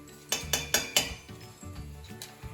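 A spoon knocks and scrapes around a cooking pot as garlic is stirred for French onion soup, giving four sharp metallic clinks in quick succession followed by softer scraping, close and clear with no talk.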